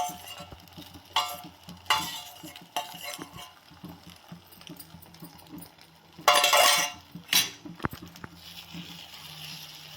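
Beaten eggs fry in a hot kadai as a spoon stirs and scrapes the pan, producing bursts of loud sizzling between softer clinks and stirring sounds.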